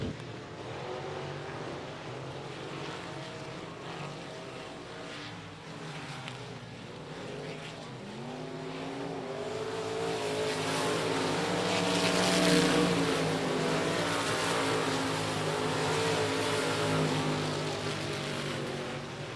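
Race cars run under green flag at I-37 Speedway, and their engines roar in a continuous mid-distance drone that swells louder around the middle as the pack passes before easing slightly.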